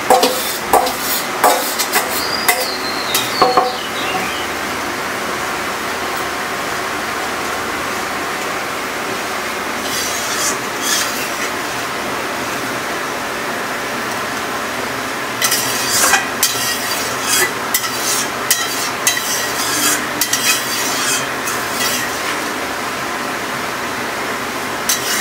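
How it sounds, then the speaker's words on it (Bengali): Prawns simmering in a Bengali malai curry sauce, stirred in a pan with steady bubbling sizzle and occasional scrapes and clinks of a spoon against the pot. "এবার আমি চিংড়িগুলো এই ঝোলে দিয়ে দেবো, ঢেলে দিয়ে দিলাম আর কি"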